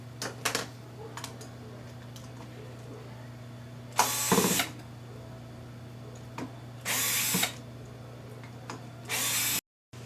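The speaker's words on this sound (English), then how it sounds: "I can use electric screwdriver to save some time." Electric screwdriver loosening screws on a BMC electric bike hub motor during disassembly: three separate bursts of whirring, each roughly half a second to a second, over a quiet room hum with faint clicks between.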